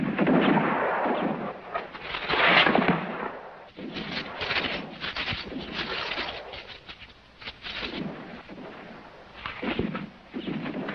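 Heavy, rumbling blasts and crackling debris roll on continuously, loud and dense like an explosion with its chaotic aftermath, in a 1967 Western film during a bank robbery.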